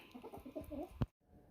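A few soft, low clucks from a hen at close range, ending in a short sharp note before quiet.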